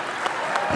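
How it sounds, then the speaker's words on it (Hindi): Talk show audience gives a short burst of applause for actress Sunny Leone, a dense wash of clapping in a crowd, with a low rumble coming in near the end. "सनी के लिए जोरदार तालियां"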